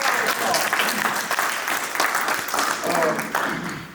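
An audience gives a round of applause at an Annie Malone Day event, with dense, steady clapping that stays loud from start to finish and fills the room with no pauses.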